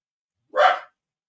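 A single short dog bark sounds once, close and sharp, in otherwise silent surroundings.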